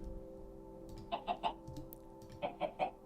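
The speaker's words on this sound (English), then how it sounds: "And so tons of chickens sit in there and they lay eggs." Minecraft chickens clucking in a farm pen, two quick bursts of three short clucks each over steady game background hum, no talking.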